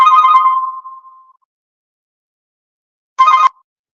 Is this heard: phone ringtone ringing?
yes